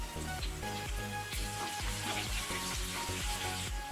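Chana dal, urad dal, cumin, mustard seeds, onion and green chillies frying in hot oil make a steady sizzle, partly masked by a loud rhythmic humming and thumping background.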